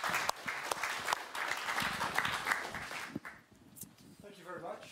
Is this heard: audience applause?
yes